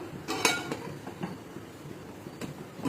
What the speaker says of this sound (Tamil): மூடி போட்டுக்கலாம்